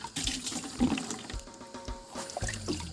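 Tap water runs and pours into a container to mix rubber-tapping acid solution, a steady close splashing fill with some handling noise over three seconds.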